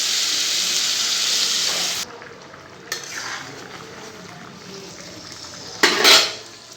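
Metal utensils stir and scrape chowmein gravy in a pan, with a continuous sizzling hiss that eases off, then a few clinks and a louder scrape near the end.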